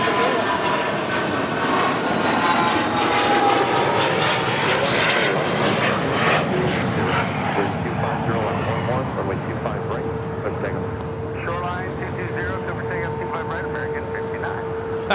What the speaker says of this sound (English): That was a Dassault Falcon 900EX